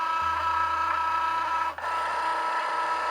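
Cricut cutting machine cutting vinyl with a steady mechanical whir and motor hum, a brief dip near the middle, close and without talking.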